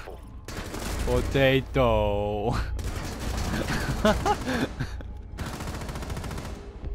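Rapid gunfire in a video game, bursts of shots in clusters through the clip, loud and near, mixed with a player's excited voice and exclamations.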